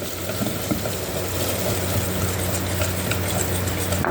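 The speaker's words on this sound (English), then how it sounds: "you want to whisk in your water or your heavy cream" A whisk stirs water or heavy cream into hot caramel just off the heat, a steady close swishing and bubbling sizzle with no talk.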